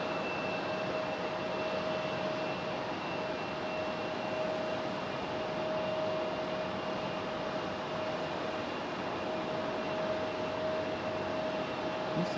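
A JetBlue airliner's jet engines hum steadily at Raleigh Durham International Airport in stormy weather, a constant broad roar with a sustained whining tone, heard from a distance.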